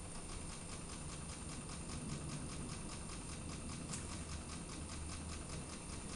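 A small homemade Ringbom Stirling engine with a horizontal flywheel runs steadily, giving a faint, even mechanical hum with a fast, regular ticking pulse throughout.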